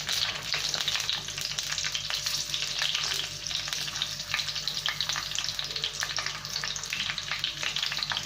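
Stuffed green chillies filled with fresh coconut roast in a pan, a steady dense sizzle and crackle of frying that holds evenly throughout, close and fairly loud, with no talk.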